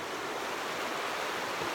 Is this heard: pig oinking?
no